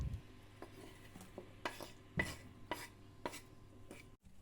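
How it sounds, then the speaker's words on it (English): A utensil clinks and scrapes against a pan of vegetables in irregular strokes, with a faint low hum underneath and no talking. "Stir it a little bit."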